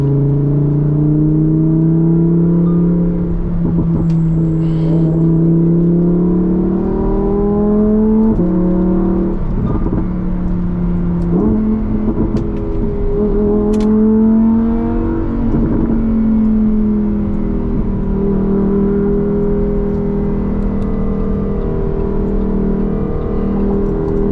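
A Lamborghini Huracan EVO Spyder engine drones loudly from inside the cabin, its pitch rising and falling as it revs and shifts through gears.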